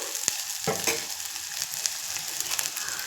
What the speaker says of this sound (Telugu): ఇది పచ్చివాసన పోయేంత వరకు వేపుకోవాలి.